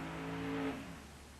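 Pulling tractor at an NTPA tractor pull in Tomah, Wisconsin in 1997, its engine roaring steadily from a distance at high revs, then falling away in pitch and loudness.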